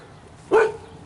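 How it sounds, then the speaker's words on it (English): A single sharp dog bark from a yard, close and loud, standing alone against a quiet background. "Oh, that dog don't like me."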